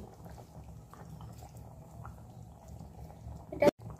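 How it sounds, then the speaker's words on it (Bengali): Chicken and new potato curry simmers under a lid, a quiet, steady bubbling hiss that ends with a brief, sharp clatter. "আমি এটা চাপা দিয়ে কিছুক্ষণ ফুটিয়ে নেব।"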